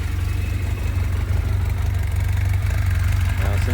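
A 2019 Jonway YY350-9a motorcycle engine idles steadily just after its first start, a continuous low, even rumble running loud and close throughout with no talk over it.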